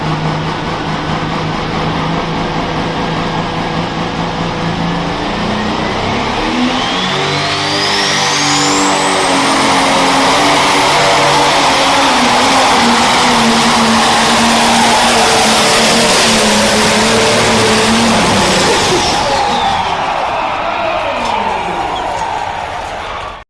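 A pulling tractor's engine roars loud and steady through a full run, pitch climbing as it accelerates and holding high before easing off near the end, with a faint voice underneath.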